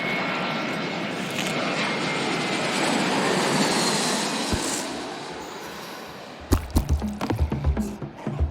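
A jet airplane in the video game Genital Jousting roars steadily through its takeoff, a loud broadband engine rush that swells and then fades, followed by a run of uneven thumping knocks.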